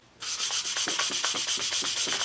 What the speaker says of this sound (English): I'm sanding it kind of from the front face